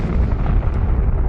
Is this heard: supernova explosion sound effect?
yes